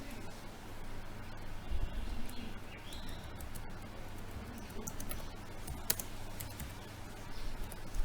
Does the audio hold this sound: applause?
no